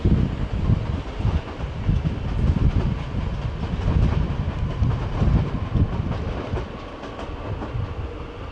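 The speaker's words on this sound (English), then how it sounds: "There's another regional service pulling in, loco at the front, hauling a set of double-decker coaches." A regional train hauled by a locomotive at the front with double-decker coaches pulls into München Hbf, giving a steady loud rumble of rolling wheels and rail clatter with some wind noise throughout.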